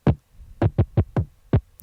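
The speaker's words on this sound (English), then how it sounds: "So this kick sounds really funky on its own because it's just a couple of beefed up layers." Layered kick drum sample built from beefed-up layers, hitting six times at an uneven, funky rhythm, each thump punchy with a quick decay, close and dry with no talking.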